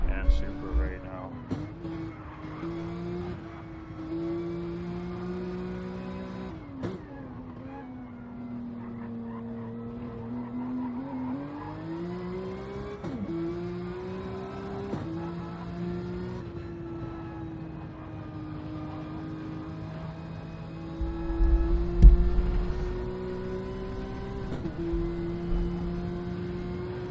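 Porsche Cup race cars battle in a racing video game: a steady, droning engine whine that rises and falls in pitch through gear changes, with a brief louder burst near the end.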